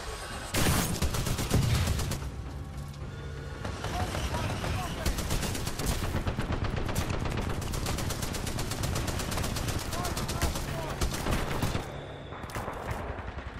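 An LMG fires in Titanfall 2, sustained rapid automatic bursts rattling for most of the stretch, loud and dense, with a voice talking over the gunfire.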